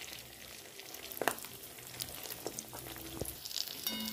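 Fish roe fries in oil in a wok, a steady quiet sizzle with occasional sharp pops and light stirring clatter, heard close and alone.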